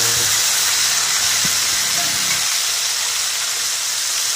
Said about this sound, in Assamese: বিলাহী আদা নহৰু পেষ্টখিনি ইয়াতে মই এতিয়া দি দিছোঁ